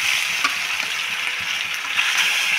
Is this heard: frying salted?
yes